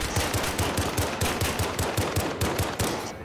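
Rapid pistol gunfire in the Warzone video game: a steady burst of about a dozen sharp, evenly spaced shots, loud and close, with no talking.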